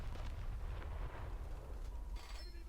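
The Ersatz Yorck battleship fires full salvos in War Thunder Mobile. Deep, rumbling naval gunfire with booming blasts rolls under a constant heavy low roar, loud and sustained throughout.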